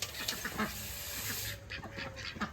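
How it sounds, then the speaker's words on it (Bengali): Two white ducks quacking near a pond at feeding time, repeated nasal calls close by in an irregular rhythm over a hissy background. "সারাদিন পুকুরে ছিল সাদা হাঁস দুটো"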